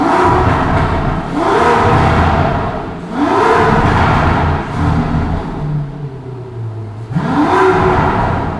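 A stock 2023 Aston Martin V12 Vantage engine, not yet warmed up, revs up repeatedly, rising in pitch with each blip and settling back to a rumbling idle between, loud and close.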